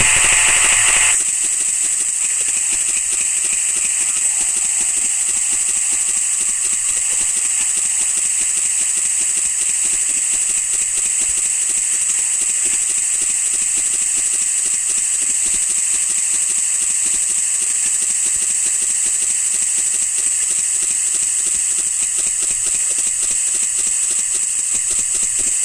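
Arc welding a pipe root pass produces a continuous loud buzzing, crackling hiss that holds steady throughout without a break.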